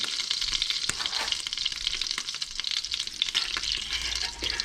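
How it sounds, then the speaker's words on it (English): Hot butter sizzling in a metal pan while a metal spoon scrapes the browned solids aside, a constant bright crackle close by. "I can basically scrape the butter solids off to the side and scoop them out with a spoon"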